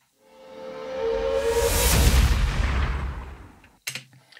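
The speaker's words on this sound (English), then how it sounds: "there's some explosions, because everything sounds better with explosions." Explosion sound effect in a heavy metal mix: a rising rush that swells into a loud, rumbling boom, decays over about two seconds, then a short sharp crack and tail.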